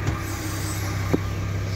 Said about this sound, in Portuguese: Deixar o caminhão um pouquinho na lenta.